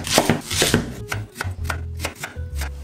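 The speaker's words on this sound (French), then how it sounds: "Tout d'abord, nous allons émincer nos oignons." A knife slices halved onions for French onion soup on a cutting board, making quick, close, crisp chops in an uneven rhythm, with no talk.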